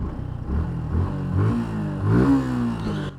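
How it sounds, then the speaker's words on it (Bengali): Suzuki Gixxer Fi motorcycle engine idling and revving with a rough, rattly tone, a steady loud mechanical drone that swells briefly near the end, close to the microphone with no talk. "দেখছেন একদম কর্করা সাউন্ড"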